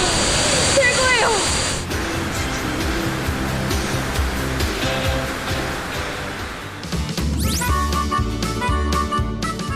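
A waterfall deep in the Bali jungle gives a loud, steady rushing roar, with music and a voice heard over it.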